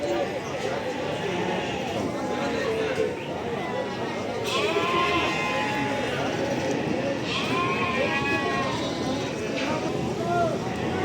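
Goats are driven through a livestock market in Barda, with repeated bleats rising over a dense crowd murmur of talking voices and hooves shuffling nearby.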